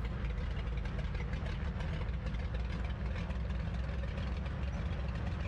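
The twin radial engines of a Grumman JRF-6B Goose amphibian in Microsoft Flight Simulator give a steady, dense, low rumbling drone with no pauses or voices.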